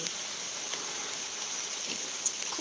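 Steady, soft rain pattering continuously with a faint hiss, with no voices; one brief sharper drip stands out near the end.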